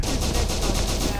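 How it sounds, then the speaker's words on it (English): Rapid, evenly spaced automatic gunfire from the video game SCP: Secret Laboratory, a loud continuous burst of shots with a steady rhythm of about eight rounds per second. "Shots fired!"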